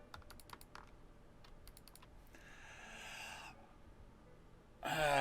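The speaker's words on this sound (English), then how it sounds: "I'm even trying left clicking, right clicking, everything." A computer mouse gives quick, faint left and right clicks in short bursts, followed by a soft hiss and a louder noisy burst at the end.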